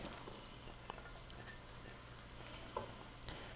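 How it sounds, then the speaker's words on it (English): Chinese broccoli and garlic cook in a pan, giving a faint, steady sizzle with a few light clicks from stirring. "Next, we're gonna add our Chinese broccoli. It's gonna cook down nice. As well as our garlic."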